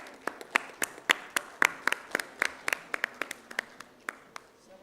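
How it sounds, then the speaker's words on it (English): An audience at a hospital event claps with steady, fairly faint applause from a modest crowd, heard as distinct individual hand claps in quick succession. "A huge round of applause for Deepak sir."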